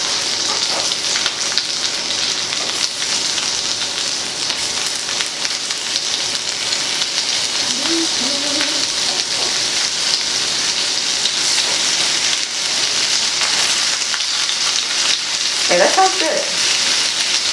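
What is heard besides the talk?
shrimp searing in a hot pan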